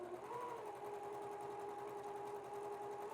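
Sewing machine chain piecing a quilt block, a steady, continuous whirring hum with a faint rapid needle chatter, held at an even pitch throughout and heard quietly on its own.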